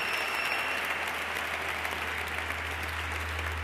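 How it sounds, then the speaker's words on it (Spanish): An audience at the GoliADs 2014 gala applauds the presenters, a steady wash of many hands clapping heard somewhat distant over a low constant hum, unbroken throughout. "También un fuerte aplauso para nuestras presentadoras, Ana y Alba"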